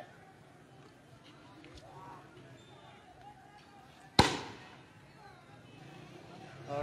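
A single sharp tear gas shell launch cracks out loud amid a noisy street protest as police in masks and helmets advance on PTI workers, with crowd murmur and voices throughout.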